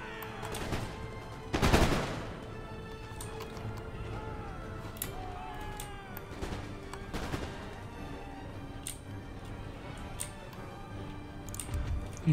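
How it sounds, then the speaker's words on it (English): Musket volleys crackle in an Empire Total War battle, with one loud burst early and scattered distant shots after it over a busy background of battlefield noise. "Get some good shots off of them then while you can."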